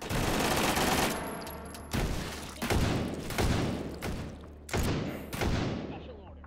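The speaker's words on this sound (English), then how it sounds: "Who's shooting at me?" Rapid bursts of gunfire in the VR shooter Hot Dogs, Horseshoes & Hand Grenades, several loud volleys cracking in quick succession over a few seconds, close and dense, with a faint steady tone early on.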